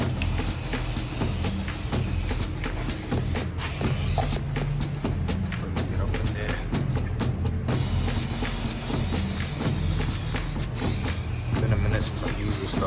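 Chain cleaner is sprayed liberally onto the chain of a 2022 Kawasaki ZX-6R KRT Edition motorcycle. Close hissing bursts repeat amid light mechanical clicks and rattles.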